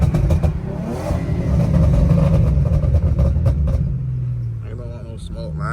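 Infiniti G37 with long tube headers idling and pulling at low RPM, a loud deep rumbling exhaust burble that swells and then settles, with voices talking over it near the end.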